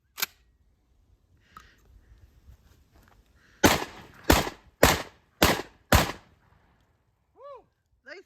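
A Beretta 1301 shotgun fires heavy loads outdoors at a range, five loud, sharp blasts in quick succession after quieter handling sounds.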